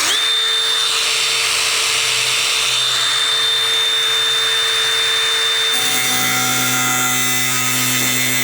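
A power tool cuts into metal on a project truck, making a continuous harsh grinding whine with a steady high-pitched tone that shifts partway through, loud and close with no voices.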